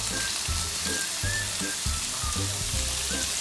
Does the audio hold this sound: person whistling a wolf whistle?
no